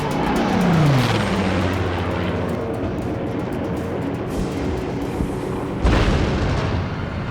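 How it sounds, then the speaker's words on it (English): Flak anti-aircraft shells explode around escort bombers over enemy territory, with deep booming blasts and a rumbling roar, including a sharp burst near the end. "They'd fired from the ground, and when the shell explodes, it throws all these pieces out."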